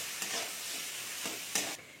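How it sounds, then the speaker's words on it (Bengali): Ginger and tomato frying in a pan while a spatula stirs, a close, continuous sizzle broken by a few sharp scraping strokes, no voices. "দেখুন এখানে এটা আমি ভেজে নিচ্ছি।"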